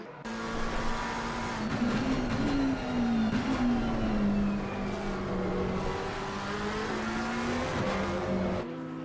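A McLaren 720S engine revs hard in a racing video game at Imola, a loud, sustained whine climbing and falling in pitch through the gears before cutting off abruptly.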